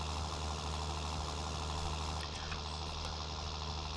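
A tractor engine runs in the Farming Simulator 19 video game, a steady mid-pitched drone with a constant low hum, quiet and continuous with no speech.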